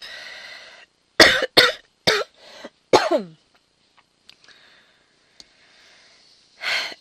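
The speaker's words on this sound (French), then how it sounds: "je sais aussi pourquoi je vais tousser" A person with a pollen allergy coughs in a close, sharp burst of four or five hacks, then clears the throat and breathes, with a final short cough near the end and quiet pauses between.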